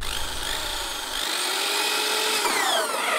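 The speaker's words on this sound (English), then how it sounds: "Drill, drill," Filmed on a Himalayan expedition, a power drill whines steadily as it bores a hole, its pitch rising and shifting under strain for a few seconds, close and continuous with no voices.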